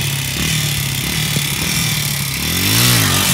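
A 2-stroke Honda CRF80 dirt bike engine revs hard nearby, a loud buzzing, high-pitched whine that holds steady and then swells and warbles in pitch near the end.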